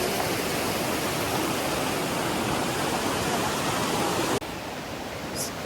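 Loud, steady rush of flowing water close by, a dense hiss that drops suddenly near the end to a quieter flow.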